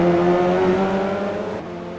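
Renault Clio Cup race cars at Bathurst approaching Forest Elbow, their engines droning loudly at high revs in a sustained, steady tone that fades slightly at the end.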